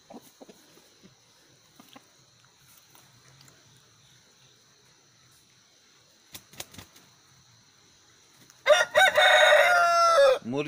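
A desi rooster of a native Punjabi breed lets out one loud, close crow near the end, after a long quiet stretch with only faint scattered clucks and small background noises.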